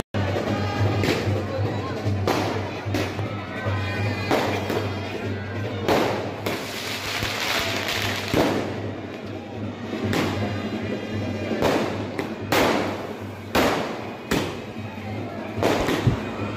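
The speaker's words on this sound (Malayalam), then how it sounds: "ഫയർ വർക്ക്സൊക്കെ നിറയെ ഉണ്ടായിരുന്നു കുറേ പടക്കം ഇതൊക്കെ പൊട്ടിച്ചു" Fireworks and firecrackers burst again and again at a church festival, sharp bangs and booming thuds spread across the whole stretch under steady crowd noise, with voices talking throughout.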